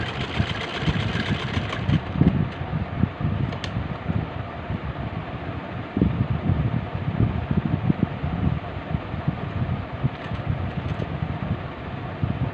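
A sewing machine stitches an Angrakha-style frock, its motor running in a steady close whir with rapid rhythmic pulsing throughout and no pauses.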